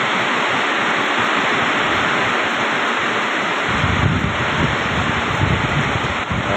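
A swollen water current rushes past a flooded rice field in stormy weather, a dense, loud, continuous roar and hiss with a deeper churning surge in the second half, close to the microphone.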